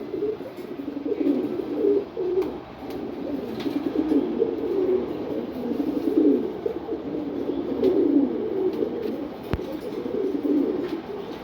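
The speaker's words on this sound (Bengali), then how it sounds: "মাক্সি রেসার কবুতর জোড়া" A pair of Maksi racer pigeons coo softly and repeatedly at close range, a steady low burbling that rolls on without pause, with no one talking.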